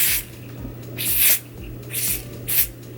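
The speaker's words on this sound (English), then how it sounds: "we will just be using our little spray" A handheld spray bottle of water mists onto an afro curly frontal wig, with four short, close hissing bursts spaced about a second apart and quiet pauses between them.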